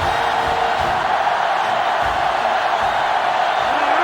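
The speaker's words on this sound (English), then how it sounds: "This sellout crowd is really making a difference now as these guys can't even call the play." Stadium crowd noise from a sellout college football game in NCAA Football 07, Ohio State at Oklahoma: a steady, loud, continuous roar of cheering fans sustained throughout without letup.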